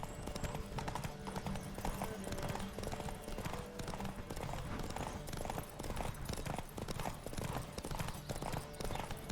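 Rapid rhythmic hoofbeats of a galloping horse in the video game The Witcher 3, loud and close, running steadily over a busy music-like background with a brief whinny.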